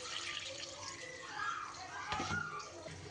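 Water is poured into spiced gravy in a pan while cooking a cabbage kofta curry, making a brief, faint splashing and sloshing sound.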